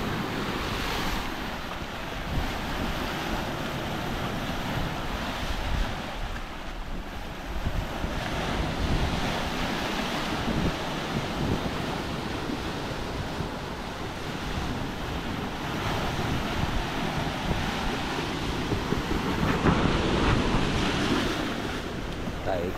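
Sea waves crash and roar with strong wind buffeting the microphone during a storm flood at a coastal hut, a continuous loud wash of surf and gusts with no talking.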